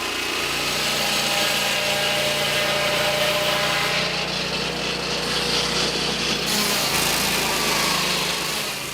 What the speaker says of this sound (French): Grâce aux scies mobiles, les communautés ont appris en un temps record à produire sur place du bois de bonne